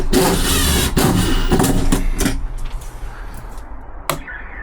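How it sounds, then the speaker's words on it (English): An inverter in an ambulance converted into an off-grid camper van switches on with a loud, steady electrical whir that fades down, followed by a single sharp click near the end. "Bit of a whir, and I've heard a click. So Good. that's the inverter on."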